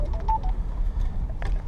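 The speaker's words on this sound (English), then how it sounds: "Hold on a second, my phone's ringing." A mobile phone sounds a quick run of short electronic tone beeps at the start, then fades to a quiet room hum with a faint chirp near the end.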